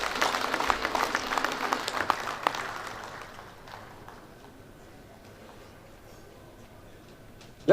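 Audience applause at a builders' conference opening ceremony swells from a crowd in a large hall, then fades away over a few seconds into near silence.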